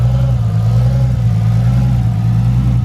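A Toyota Supra engine runs loud and close with a deep, steady rumble, holding at an even pitch without sharp climbs, and no one speaks over it.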